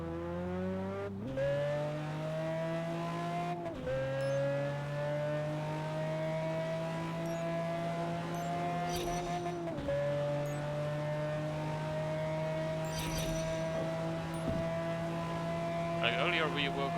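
Traffic in Test Drive Unlimited 2, with a steady car engine drone whose pitch rises and resets through several gear shifts and a few other cars whooshing past. Someone talks briefly near the end.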